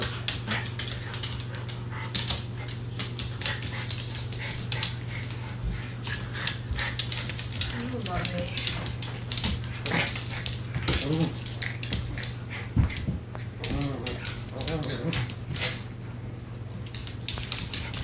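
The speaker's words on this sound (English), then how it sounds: "Here we see a Cavalier King Charles Spaniel versus a Markie." A Cavalier King Charles Spaniel and a Morkie play-fight, with dense scuffling, panting and small whimpers running throughout over a steady low hum, plus brief bursts of close activity.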